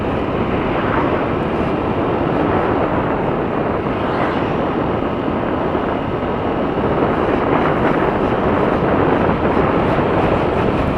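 Steady outdoor wind roaring continuously across the microphone, a broad constant rush with no pauses and no voices.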